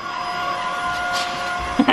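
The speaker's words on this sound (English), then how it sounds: "Get that vacuum cleaner!" A Tineco A11 cordless vacuum cleaner runs with a steady whining motor hum throughout, joined near the end by a couple of short louder bumps.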